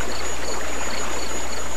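Stream flowing through a meadow, a loud continuous rushing and burbling of water, steady and close with no voices.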